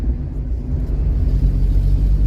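A Mk2 Volkswagen Golf Driver's 1.6 8-valve engine on a 32/34 Weber carburettor rumbles low and loud, the revs rising slightly toward the end, with no voices.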